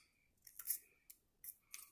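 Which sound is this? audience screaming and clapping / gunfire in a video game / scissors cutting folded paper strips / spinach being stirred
scissors cutting folded paper strips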